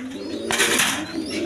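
Racing pigeons coo softly nearby in a low throaty rumble, with a brief rustling flurry in the middle of the clip.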